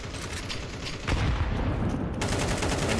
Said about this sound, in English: Prey firing through the wall.